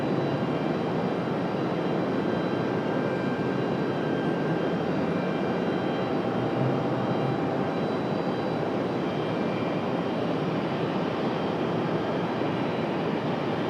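A jet airliner takes off from runway 23 left at Raleigh-Durham airport, its engines producing a loud, steady broadband roar that holds throughout.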